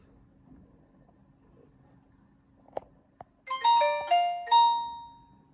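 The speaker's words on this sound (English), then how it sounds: "let's remove the USB-A cable and power on the phone." Nokia 110 (2023, TA-1567) feature phone switching on: a couple of faint clicks, then a short bright electronic startup melody of three rising chimes over a quiet background.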